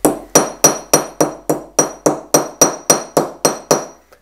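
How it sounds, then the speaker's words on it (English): A hammer beats dimples into the metal shell of a homemade 21700 parallel box mod: roughly a dozen crisp, evenly spaced metallic blows, near and loud, each with a short bright ring, then silence. "As you see, it's very easy now to hammer them out."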